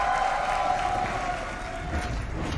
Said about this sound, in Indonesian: bisa tepuk tangannya!